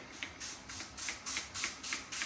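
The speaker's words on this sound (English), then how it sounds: "And then I'm going to use a little spray margarine." Parkay spray margarine misted over a rack of baby back ribs before smoking, heard as about seven short, hissing spray bursts in a quick, even rhythm, close and fairly quiet, with no talking.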